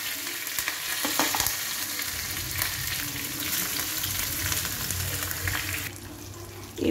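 Green chillies and a dried red chilli hiss loudly in hot tempering oil with the stove turned off, a dense close sizzle that dies away sharply near the end.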